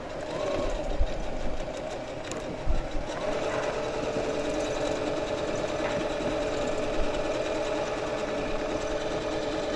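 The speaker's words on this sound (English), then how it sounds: "Stitch a little faster so my stitches don't get really long." Sewing machine running steadily while stitching a quilt with a template, a continuous fast mechanical whir with a fine rapid rhythm throughout, close and fairly loud, no talking.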